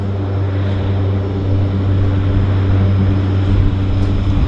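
A Seair Cessna Caravan float plane with a PT6 turboprop engine takes off from the water at Vancouver Harbour, its engine droning steady and loud at close range as it builds power, with no talking.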